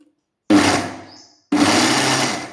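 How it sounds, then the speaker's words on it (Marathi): A mixer grinder blends a sesame and jaggery ladoo mixture in two loud, close bursts, the first whirring for nearly a second before winding down, the second running steadily after a short pause. "आणि यानंतर पुन्हा एकदा आपण मिक्सर फिरवणार, ज्यामुळे हे सगळं एकजीव होईल"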